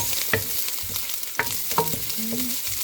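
Onions, ginger and garlic fry in a pan, a soft sizzle broken by a few sharp utensil clinks and scrapes of stirring nearby.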